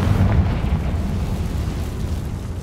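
A Confringo fire spell blast in Hogwarts Legacy, a loud deep rumbling explosion that starts strongly and rolls on as a sustained low roar for a few seconds, with no voices.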